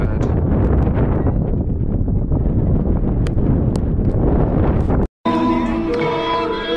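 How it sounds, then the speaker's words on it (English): Strong cold wind at high altitude in Salta, Argentina, roaring steadily against the microphone as a loud broadband rumble, briefly cutting out before a brighter, tonal background returns. "there is a cold wind up here"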